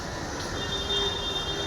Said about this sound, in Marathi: येईल आता ट्रेन